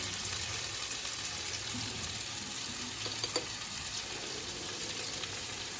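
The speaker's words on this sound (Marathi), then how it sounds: "तर ह्याला थोडासा लाल कलर येईपर्यंत आपण थोडं परतून घेऊया।" Ingredients for a flat bean dish being sautéed in a pan, a quiet continuous hiss of frying with a few soft stirring sounds in the middle.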